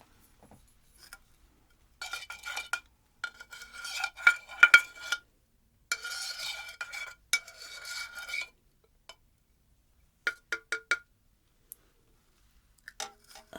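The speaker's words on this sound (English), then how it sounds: "Let me give it a little stir for you" A drink being stirred in a glass, with bursts of scraping, clinking spoon-on-glass strokes in close-up, separated by short silences and unaccompanied by any talking.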